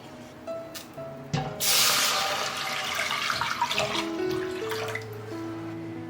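Water poured from a tap into a pot of dry-fried spices such as bay leaves, cinnamon, star anise and garlic, a sudden rushing splash after a few clinks, then a steady gurgling pour, close by.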